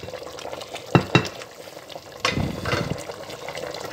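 Meat cooks in a pot for Nigerian spinach soup, making a steady bubbling, sizzling wash, with two sharp utensil knocks near the start and a louder surge of cooking noise midway.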